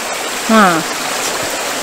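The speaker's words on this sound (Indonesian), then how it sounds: "Sungai kecil saja tapi ada ikan." A small river stream with fish in it flows with a constant broadband rush, and a short vocal exclamation rises briefly over the water.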